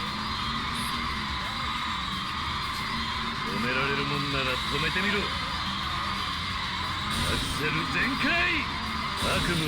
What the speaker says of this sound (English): We're going into the long drift.